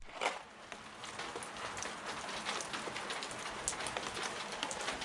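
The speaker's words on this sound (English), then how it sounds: "it's starting to rain" Steady rain patters down across a broad wash of noise, a continuous near hiss of drops landing on surfaces with no voices.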